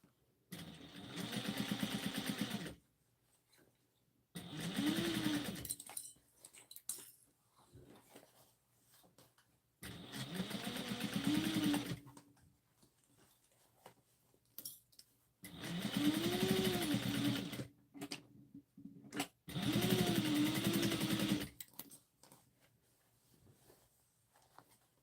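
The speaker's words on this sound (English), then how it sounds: "I like to backstitch over the side seams because I know that's where our handles are" A sewing machine backstitches the side seams of a fabric Halloween trick-or-treat basket, running in five separate bursts of a few seconds each with quiet pauses between, moderately close.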